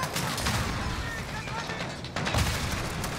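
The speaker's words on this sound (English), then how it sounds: "Dude, bullets came from above me." Rapid gunfire bursts in a Modern Warfare campaign battle, loud and dense with booming shots, and a sharper volley near the end.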